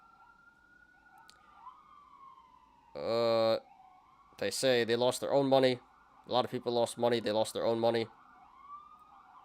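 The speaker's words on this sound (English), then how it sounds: "Sorry about the sirens, guys." Emergency vehicle sirens pass outside, a steady wailing tone running faintly through the whole stretch while someone talks over it in bursts.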